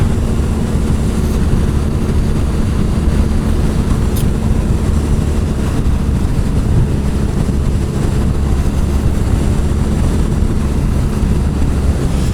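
A 2017 BMW R nineT Scrambler motorcycle on the move, its engine drone buried under heavy, steady wind rush against the microphone, loud and constant throughout, with no speech.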